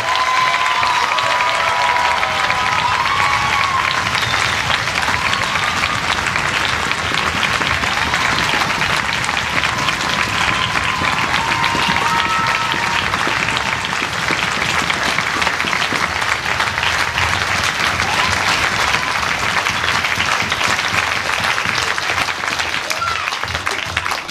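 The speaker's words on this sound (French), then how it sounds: "on peut les applaudir encore." A concert audience applauds three slam poets at a school event in Sargé-lès-le-Mans, sustained loud clapping with some cheering that fills the whole stretch without letup.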